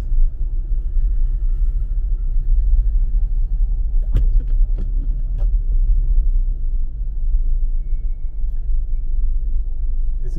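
A car drives through the town streets of Junction in Saint Elizabeth, Jamaica, its engine a steady close low rumble with a few sharp knocks partway through.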